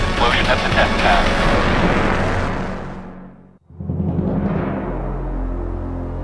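A rocket blows up on the test pad, a loud sustained roaring blast that swells, briefly drops out, then rumbles on as a heavy low roar, with talk mixed in.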